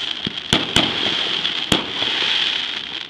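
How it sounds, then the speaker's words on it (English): Sharp fireworks bursts crack out several times over a steady hiss of crowd or ambient noise, loud and fairly close. "I'm watching shiny exploding things up in the sky."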